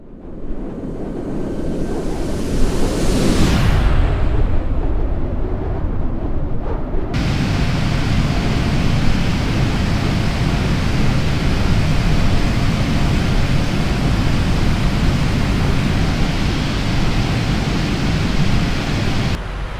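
Steady broadband roar of an airliner cruising at 32,000 feet in Microsoft Flight Simulator, en route to St. Petersburg, loud and continuous with a brief sweeping shift early on before settling into an even drone.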